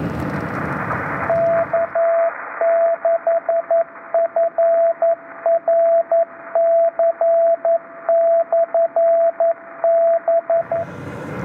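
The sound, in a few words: 1200 baud packet radio data burst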